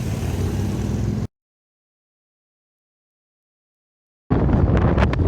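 Wind gusting across the beach at Teignmouth buffets the microphone as a loud, steady broadband rumble, cut off by a silent gap of about three seconds before it returns just as strongly.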